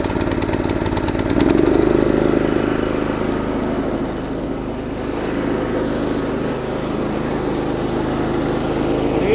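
A small petrol garden tiller engine runs steadily with its milling rotors turning, a loud close putter that surges briefly early on before settling into an even, droning idle with no talk.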